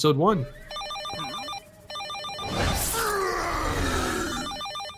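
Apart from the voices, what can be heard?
telephone ringing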